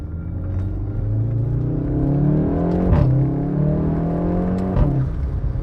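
Heard from inside, a VW Golf 7.5 R with a 228 kW, 400 Nm engine and DSG gearbox drives on the road, its engine droning and rising through revs with a couple of quick gear changes, loud and close.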